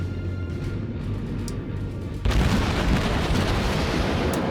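Heavy warship guns fire at an enemy ship during a World of Warships naval battle, a loud sudden boom that rolls into a sustained rumbling roar filling the rest of the clip.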